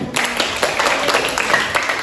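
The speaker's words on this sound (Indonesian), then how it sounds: "tepuk tangan untuk kita semua" A group of students claps together in a classroom guidance session, a steady dense patter of hands lasting about two seconds at moderate loudness with no voices on top.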